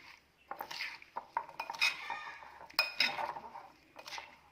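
Salted, oil-free lemon pickle being mixed in a bowl, with intermittent clinks, knocks and scraping of a utensil against the dish, close and fairly quiet, no voices.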